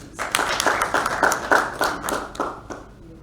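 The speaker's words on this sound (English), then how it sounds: "A round of applause for him" An audience at a Kip-Keino Classic athletics media event claps in a round of applause for a speaker coming to the podium, with steady close hand claps building and tapering over about three seconds and no talk over them.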